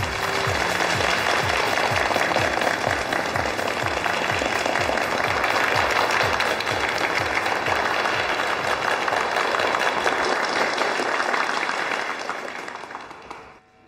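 An audience applauds warmly as a general manager and a brand designer are welcomed onstage at a company branch opening, with dense, sustained clapping that carries on for about twelve seconds and then fades away.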